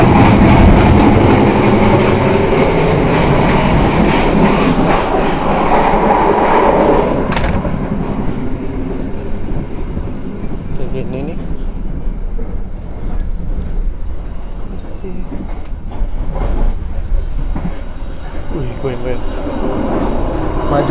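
Inside a business-class carriage of the KA Gumaran train, a loud, steady rumble of wheels and rattling coach fills the space, with rhythmic track clatter and occasional metallic clunks throughout.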